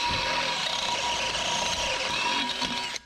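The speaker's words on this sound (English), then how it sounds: "I'm going to step them out with a Harbor Freight drill bit" A Harbor Freight step drill bit bores out holes in steel while fabricating a homemade dump bed for a mini dually work truck, a steady loud whirring grind holding for about three seconds before cutting off abruptly.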